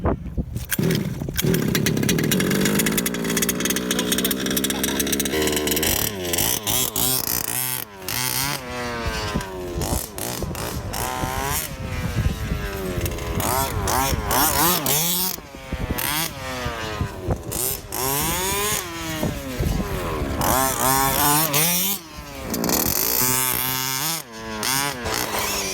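A gas-powered HPI Baja 2-stroke RC car engine catches and runs loud and close, its high-pitched buzz repeatedly revving up and dropping back in sharp throttle blips, with no talking.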